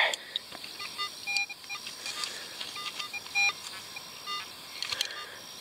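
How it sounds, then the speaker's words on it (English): A metal detector gives short electronic beeps that repeat in quick pairs and singles, high-pitched and clear, over a quiet outdoor background in an old Florida orange grove, with no talking; the double beep comes from a buried shotgun shell. "Sounded like a double beep, but shotgun shells will do that"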